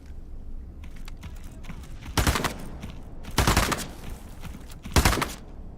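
Gunfire in the video game Into The Radius 2: three sharp, loud single shots spaced a second or so apart, each with a brief tail, over a faint background hiss.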